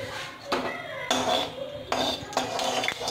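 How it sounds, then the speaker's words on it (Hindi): A metal spoon stirs hot ghee in a kadai for poha tadka, making several close, sharp clanks and scrapes against the pan in an irregular rhythm with short gaps between strokes. "घी को गर्म होने तक कढ़ाई में हिलाया"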